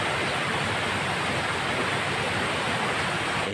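A river running strong after rain makes a steady, dense rushing roar that stays constant and unbroken from start to finish.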